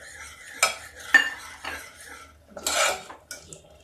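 Millet flour being stirred into urad dal in a pot, with sharp spoon clanks and scrapes against the metal and a longer rough scraping burst, close and alone over a faint simmer.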